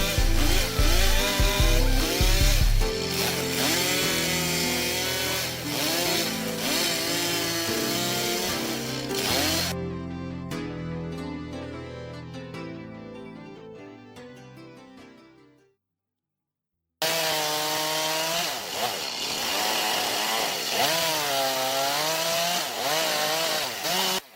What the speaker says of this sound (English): Cutting the main floor planks to size, which will serve as the even living surface of the house.